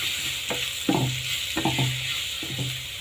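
Spice powders fry in a pan under a steady hiss while a spoon drags through them in repeated stirring strokes about every half second, close and loud with no voices.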